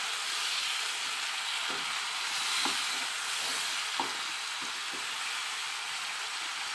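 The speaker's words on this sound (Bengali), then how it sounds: "সামান্য জল দিলাম, দিয়েও কিছুক্ষণ নাড়ানাড়ি করবো" Chicken curry with mustard paste and a little water frying in a pan, a steady close sizzle and hiss with several soft scraping stirs of a spoon at irregular intervals.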